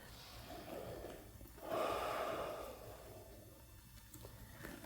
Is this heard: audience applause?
no